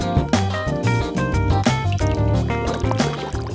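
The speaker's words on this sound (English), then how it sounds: "That's what a gentle boil sounds like." Creamy tomato basil soup bubbling at a gentle boil in a pot on medium-high heat, a steady close stream of soft pops and liquid burbles with no talking.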